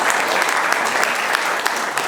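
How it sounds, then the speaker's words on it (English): Steady audience applause fills a hall after a talk on open-source mechanical engineering design, a dense even patter of many hands at moderate volume throughout. "Round of applause."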